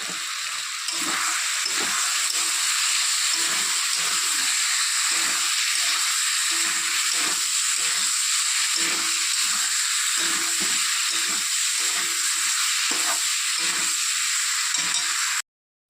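Spices sizzling in a pan while the masala for a fish curry is fried down, a steady hiss carrying broken bursts of stirring throughout, then cutting off abruptly at the end.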